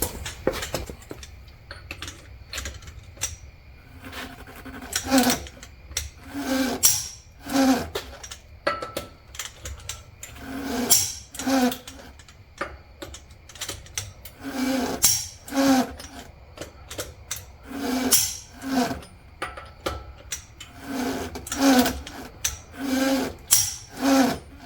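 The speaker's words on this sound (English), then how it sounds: "now I'm going to go around, torque all the lug nuts, star pattern still, of course, 150 foot-pounds on F-150s" Repeated clicking ratchet bursts from a torque wrench tightening lug nuts on a Ford F-150 wheel in a star pattern, short rhythmic clusters recurring every second or two, close and fairly loud, no talking.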